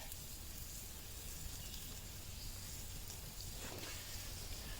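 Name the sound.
sausage sizzling in a pan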